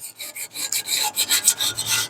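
Steady back-and-forth rasping of emery cloth scrubbing a metal oil pan, close and rhythmic, with about a dozen quick strokes and no voices.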